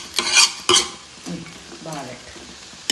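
Ginger is stirred and sautéed in a pan for Kerala-style puli inji, with a few sharp scrapes of a spoon against the pan over a low, soft sizzle.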